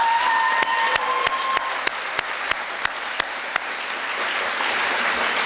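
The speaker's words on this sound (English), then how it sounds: "let's give the Fine Arts Department of Port Huron High School a great round of applause" An audience at the Port Huron High School Fine Arts Festival gives a round of applause for the Fine Arts Department: close, continuous clapping with a few sharp, distinct claps standing out over the crowd.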